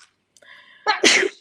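A single person sneezes close by, with a short intake of breath and then a sharp, loud burst that ends quickly.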